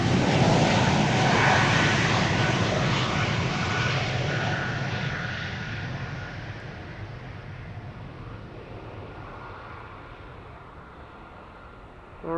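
An airliner departing Amsterdam Schiphol Airport, its loud jet engine roar filling the scene at close range and then gradually fading as it moves away, with no voices.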